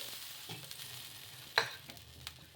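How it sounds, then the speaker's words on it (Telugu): A few drops of water hit a hot dosa pan with a faint, brief sizzle. One sharper hiss flares in the middle, with small clinks and soft scraping around it in a quiet kitchen, and no talk. "పెన్నం వేడెక్కిన తర్వాత కొద్దిగా నీళ్ళని వేసేసుకొని"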